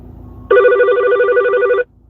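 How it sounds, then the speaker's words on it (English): A mobile phone ringtone blares loudly through car speakers, one sustained warbling electronic ring lasting over a second, then cutting off abruptly. "why is my phone ringing?"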